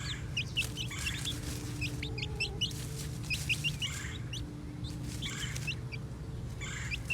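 Farm chickens cluck and chirp in short repeated calls over a steady low background hum, several birds close by in irregular bursts.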